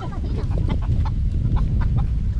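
A chicken clucks repeatedly at close range, short choppy calls over a low rumbling background.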